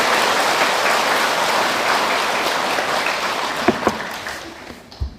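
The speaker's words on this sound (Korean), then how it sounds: "감사의 큰 박수 한번 보내주시기 바랍니다" A large crowd at a Buddhist temple gathering claps steadily for the head monk, a dense, even wash of applause that holds for several seconds before tapering, with a couple of sharper knocks near the end.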